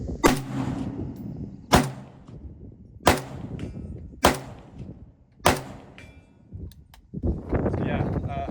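A Circle 10 Bulgarian AK-74 style rifle fires 7.62 rounds: five sharp, loud shots evenly spaced about a second and a half apart, each with a short ringing tail, followed by a burst of rustling noise.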